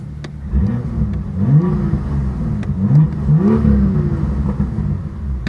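A 2018 BMW M2's M Performance exhaust rumbles low and deep, rising in pitch with a few blips of the throttle, with faint crackles in between.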